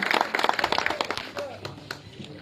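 Villagers at a public water conservation event clap loudly for about a second and a half, sharp and close, before the applause trails off under a voice.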